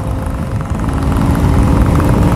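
A Royal Enfield Bullet motorcycle engine runs steadily close by, a deep continuous rumble with a throbbing low end and no voices.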